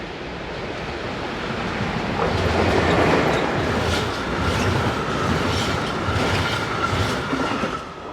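Freight train 11255 rolls past heading north, a loud continuous rush of wheels with rhythmic clickety-clack that swells and holds through the whole pass.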